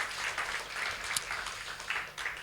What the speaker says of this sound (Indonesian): Yang percaya beri tepuk tangan yang luar biasa untuk Tuhan kita